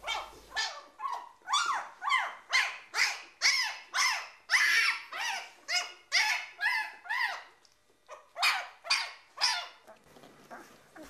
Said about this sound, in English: her little ones showed their indignation by yapping